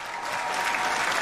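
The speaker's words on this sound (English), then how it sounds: "Clap for yourselves." A game show studio audience claps for itself in a brief, dense, even burst of applause.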